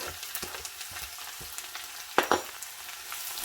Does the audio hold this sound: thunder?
no